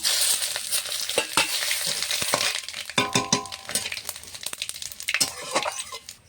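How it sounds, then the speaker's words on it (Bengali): Bay leaf, dried red chilies and five-spice seeds crackle and sizzle in hot mustard oil in a wok as a tempering for dal, with sharp pops and light clinks of stirring close by. "কড়াইতে আমি ফোড়নের জন্য সরষের তেল দিয়ে দিয়েছি, দিয়ে দেবো ফোড়নে তেজপাতা, শুকনো লঙ্কা"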